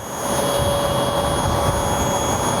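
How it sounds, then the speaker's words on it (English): Twin Pratt & Whitney turboprop engines of a Portuguese Air Force C-295 transport aircraft, 2640 shaft horsepower each, give a loud, steady roar with a high whine running throughout, close and constant with no talk. "This aircraft has two Pratt & Whitney engines with 2640 shaft horsepower."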